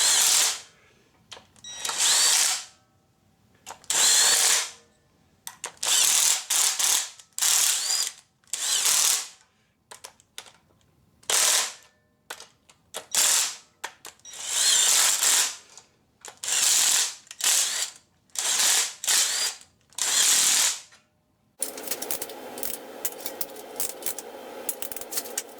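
A hand ratchet torquing used head bolts on a 5.3 V8 engine, heard as loud, close bursts of rapid clicking ratchet strokes separated by short silences, followed by a steadier mechanical noise near the end, without talking.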